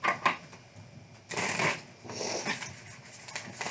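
Tarot cards are shuffled by hand nearby in quick riffling bursts, a couple of short flutters followed by longer papery shuffles, with no talking.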